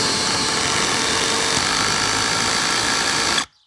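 A Parkside Performance PBSPA 12 C3 cordless drill driving a screw, a steady high-pitched motor whine held for about three and a half seconds before stopping abruptly.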